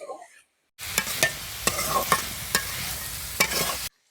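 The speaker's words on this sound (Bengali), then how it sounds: "এবার আমড়াটা ভালো করে আউজিয়ে নেব।" Hog plums are stir-fried in oil with turmeric in a pan, a close steady sizzle with several sharp scraping stirs and clinks of a utensil, starting abruptly and stopping after a few seconds.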